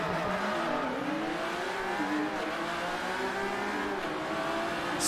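Ferrari FXX engine from a racing game, a loud sustained high-revving roar with rising and falling pitch as gears shift, continuous and close throughout, with faint tire noise.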